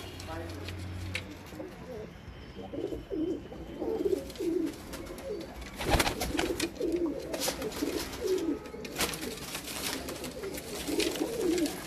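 Pigeons at a pigeon keeper's loft in Multan, Pakistan coo in repeated soft, rounded calls throughout, under and between people talking nearby, with a sharp clatter midway.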